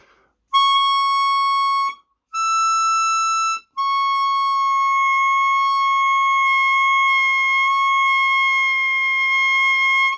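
A harmonica playing a tongue-blocked blow bend on hole 8: three sustained, pure reedy notes held close and loud, the short second note slightly higher, the last held long and steady.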